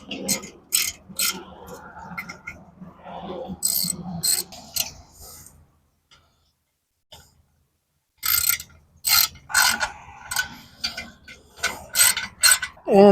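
A ratchet clicks in quick bursts while bolts are snugged up on a Coleman CT100U mini bike, with a quiet gap in the middle before the close, crisp ratcheting resumes.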